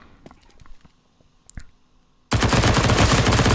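Sudden loud, sustained automatic gunfire spray bursts in a Counter-Strike match on the Cobblestone map, dense continuous rattle after a quieter stretch of scattered clicks and footsteps.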